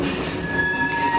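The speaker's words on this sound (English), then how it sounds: "another engineer's train is seen setting off from Tenterden. This one is unusually steam-hauled" A steam-hauled engineer's works train sets off from Tenterden on a heritage railway, giving a steady, loud rumble and rolling wheel noise with a faint squealing tone throughout.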